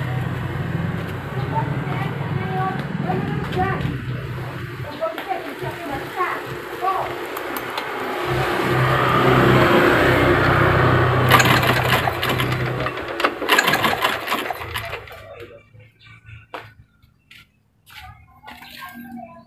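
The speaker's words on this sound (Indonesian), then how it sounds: "Sebentar ya, akan saya engkol." A motorcycle with an ignition fault being kick-started in a repair workshop: a rough engine churn and rattle runs for several seconds, then a louder burst of running before it tapers off, with someone talking over it.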